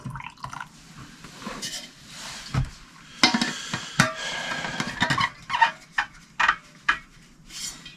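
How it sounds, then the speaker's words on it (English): Hot coffee poured out of an insulated container, heard as uneven trickling, splashing and dripping with occasional clunks of the vessel, close and fairly quiet with no speech. "I'm going to pour, this is what I'm pouring coffee out of."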